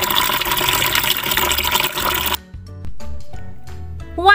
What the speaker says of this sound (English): It is a sound of a running water.